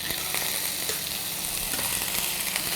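Chicken pieces fry skin side down in a pan over low heat, giving a steady, close sizzle with soft crackles and occasional pops, with no talking over it.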